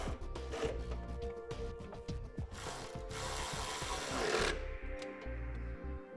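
A hand ratchet runs down the mounting bolts of a Firestone Ride-Rite air helper spring, giving a close, steady train of rapid clicking pawl strokes with brief pauses and a burst of faster ratcheting near the end.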